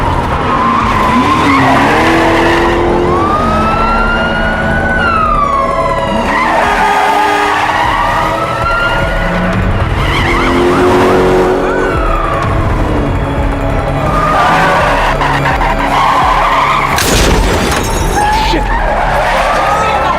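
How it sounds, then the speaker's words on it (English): A car driven roughly while fleeing a police chase in a drama, tires screeching and skidding repeatedly with revving engine, sirens and a crash near the end, loud and close. "경찰의 추격을 눈치챈 범인들은 거칠게 차량을 몰며 도주하고"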